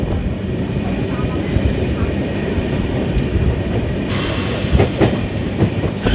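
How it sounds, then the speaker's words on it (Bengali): A train rolls steadily through jungle near Hasimara, a dense continuous rumble with faint rhythmic clatter, heard close from onboard and unbroken throughout. "এই জঙ্গলের মাঝখান দিয়েই চলেছে আমাদের ট্রেন"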